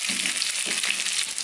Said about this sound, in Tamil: இப்போ வெங்காயம் நல்லா பொன்னரமா வர வரைக்கும் வதக்கி விட்டுக்கோங்க.